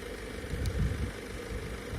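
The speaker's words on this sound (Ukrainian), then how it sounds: "Так, зараз мотор працює." A Citroen Jumper van's single-turbo engine idles with a steady low rumble and slight vibration, close by and continuous, with no one speaking.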